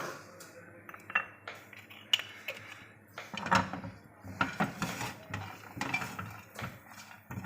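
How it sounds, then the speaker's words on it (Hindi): Cashews dry-roasting in a pan for hot and sour soup: irregular metallic clinks and scrapes of a spoon stirring against the pan, moderately close and quiet between taps. "लिए पैन में थोड़े से मैं ये रोस्ट करूंगी काजू"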